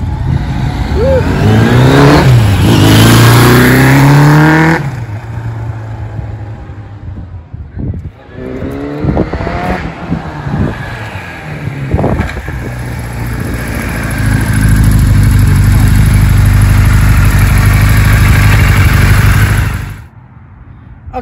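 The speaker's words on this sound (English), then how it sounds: "we're out test driving your bike right now as we speak" A 1975 Kawasaki Z1 900 motorcycle is test ridden, its engine revving and rising through gears in loud passes, then dropping off before a long steady drone near the end.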